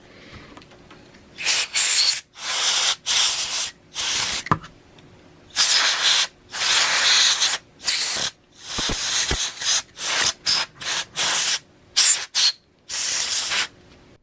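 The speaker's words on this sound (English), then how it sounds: "we're going to just blow off the outside of this with some compressed air" Compressed air blows off the outside of a Walbro carburetor on a McCulloch MCC1635AK chainsaw, with about a dozen loud, close bursts of hissing air of varying length separated by short silences.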